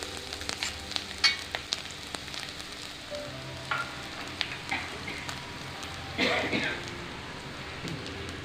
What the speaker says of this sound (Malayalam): നന്നായിട്ടൊന്ന് ഇളക്കി കൊടുക്കാം. ഒന്ന് മൂത്തോട്ടെ.